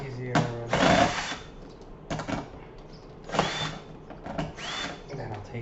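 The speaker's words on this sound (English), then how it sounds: "loosen them up with the drill just to make my life a little easier." A power drill loosens the tuner screws on a Squier Telecaster Custom guitar, firing in several short whirring bursts close by, separated by pauses with handling noise and someone speaking between them.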